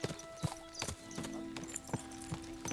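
Horse in the medieval game Kingdom Come: Deliverance II, with a clear run of clip-clopping hooves at a steady rhythm and a whinny, close and fairly loud throughout.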